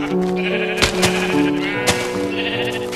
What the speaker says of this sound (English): There's a good 10 sheep right here.